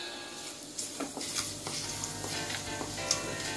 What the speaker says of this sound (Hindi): याद रखना यहाँ पर लो फ्लेम पर ही हमें इसे अच्छे से फ्राई करना है।